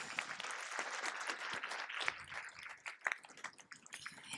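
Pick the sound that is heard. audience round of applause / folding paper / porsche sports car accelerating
audience round of applause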